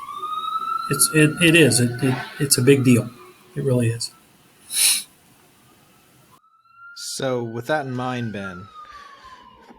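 A siren wails in the background, rising and falling across the whole stretch while two people talk over it.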